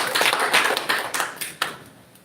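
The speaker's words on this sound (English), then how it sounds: "Shafi Hassan, round of applause," An audience at a leadership training event applauds Shafi Hassan, a short burst of scattered clapping that thins and fades.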